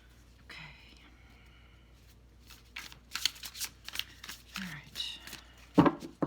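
Tarot cards are shuffled by hand close up, a soft riffling and rubbing that builds into quick flurries, with quiet speech around it.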